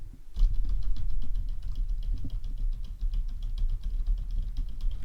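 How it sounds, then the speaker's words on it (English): Computer keyboard typing picked up by a Maono AU-903 Fairy USB microphone in cardioid mode, a steady run of quick, close key clicks with no voices. "Here is my keyboard test with the cardioid function on."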